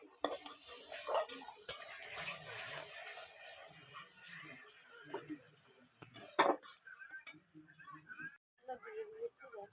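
Onions frying in a pan for a fish curry give a soft sizzle beneath frequent metal stirring and utensil clatter, with a person talking over it.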